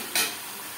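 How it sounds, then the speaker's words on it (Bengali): A single quick stir of chicken pieces for an aloo chicken curry in a hot pan on high flame, one brief scrape and sizzle over a steady background of frying. "মাংস বেশ ভালো করে মিক্স করে দেবো"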